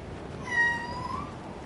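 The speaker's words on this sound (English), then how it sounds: "Oh, here's my cat." A pet cat gives a single short meow over faint room noise, fairly soft and close by.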